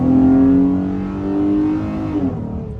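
A Chrysler 300 SRT in track mode accelerates, its engine a loud, close, rising drone that swells and then eases off over a few seconds, with no talk.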